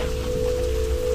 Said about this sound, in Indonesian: Hujan semakin deras, angin semakin kencang